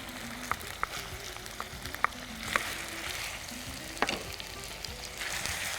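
Onion, tomato and ginger-garlic paste frying in a pan while being stirred, a steady close sizzle broken by sharp scraping clicks of a spoon against the metal, alone without any talk.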